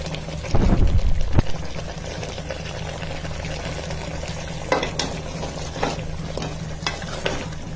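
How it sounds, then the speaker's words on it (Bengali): A spoon stirs beef curry with salt, turmeric and spices in a pan, a loud scraping burst early followed by steady soft sizzling and occasional clinks, close by and with no talk. "এরপরে একটু মিশানোর চেষ্টা করছি, একটু ভালো করে মিক্সড করে তারপরে বাকি মশলাগুলো দিলাম।"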